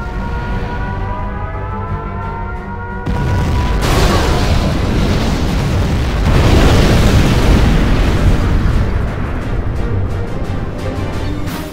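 A nuclear missile launches and detonates in Command & Conquer Generals Zero Hour: a tonal siren-like whine gives way to a loud, sustained roaring blast that swells again midway and rumbles on at full volume.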